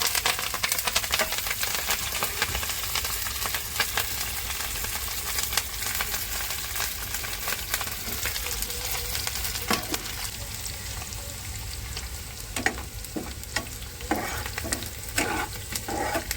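Chillies and mustard seeds sputter in hot oil for the tempering of patra, making a loud, continuous crackle packed with sharp pops. Clusters of quick snaps grow denser toward the end, with no voices.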